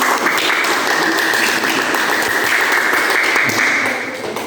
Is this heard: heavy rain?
no